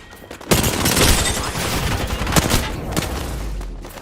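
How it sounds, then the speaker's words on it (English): A dense, sustained barrage of gunfire during a ranked video game match, a continuous roar of overlapping shots with a few louder bangs punching through. It is loud and close throughout. "A lot of bullets."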